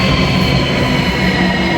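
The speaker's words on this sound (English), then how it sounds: "There's like lots of train action going on here" Trains at a Russian station give a loud, continuous rumble with rolling wheel noise and faint squeals, steady and close throughout, with no voices.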